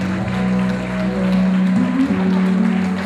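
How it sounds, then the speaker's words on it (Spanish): Dense, continuous clapping from a crowd fills the space at full volume, with a steady hum underneath and some indistinct voices mixed in. "Que sigan esos aplausos, por favor. Fuertes los aplausos."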